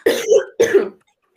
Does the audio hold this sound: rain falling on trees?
no